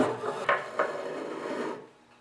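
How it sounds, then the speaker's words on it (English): Drive shaft sliding into the left side of a snowblower's top hole, a close metallic rasp and scrape with a couple of sharper knocks, fading out after about two seconds. "I'm going to insert the shaft on the left side of the blower"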